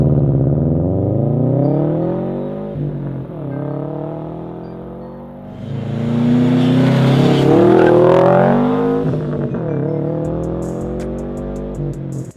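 Subaru WRX/STI (2015–2021) exhaust, loud and close, with rising revs in repeated pulls, gear-change dips between them and a sharp crackling surge in the middle; no talking.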